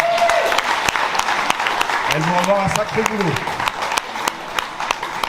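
Audience applause at a sports club season launch, a dense steady patter of clapping running the whole stretch with a voice speaking over it.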